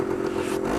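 Steady engine drone from a cheap used motorcycle kept as a winter beater, with about 3,670 miles on it, running at an even idle-like hum for under a second.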